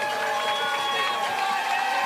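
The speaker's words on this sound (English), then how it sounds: "Crowd's getting loud." A crowd cheering and applauding outdoors at golden hour as a runner finishes the High Lonesome 100-mile race, a steady wash of voices and whoops that holds throughout.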